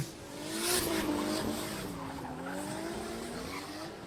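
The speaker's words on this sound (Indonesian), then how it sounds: "Iksan Utama menahan laju dari mobil yang digunakannya untuk bisa merapatkan posisinya, memberikan pressure dari belakang" Racing cars in a chase battle, with engines droning and tires squealing, sliding pitch up and down continuously at moderate, fairly distant level.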